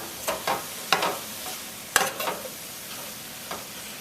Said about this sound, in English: I'm going to stir that around and let that go for about 4 or 5 minutes or so.